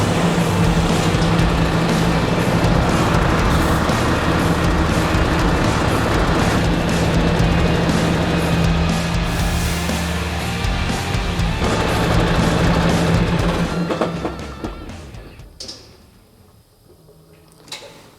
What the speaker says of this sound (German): Ich starte jetzt das Fahrzeug